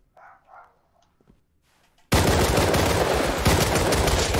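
Sudden, loud, sustained automatic gunfire in the video game Rust on console bursts in halfway through and continues densely to the end, after a short quiet stretch with faint sounds.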